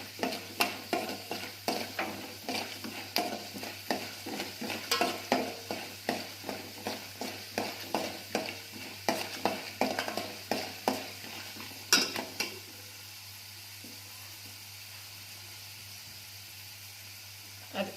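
Chana dal and urad dal fry in hot oil, quiet sizzling punctuated by a rapid series of sharp stirring scrapes and clicks for about twelve seconds, then a soft faint hiss with the stirring stopped.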